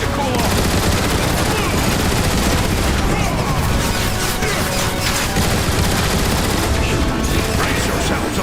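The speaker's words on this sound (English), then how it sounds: "I'm getting shot to pieces here!" Heavy, nonstop gunfire and booming blasts in Transformers: War for Cybertron, loud and dense throughout, with a voice faintly mixed under the barrage.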